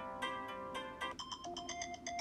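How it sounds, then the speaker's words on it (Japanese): A smartphone morning alarm ringtone plays alone, first a sustained repeating chime pattern, then a faster run of bright repeated electronic beeps, loud and close throughout. "私の朝起きる時の音"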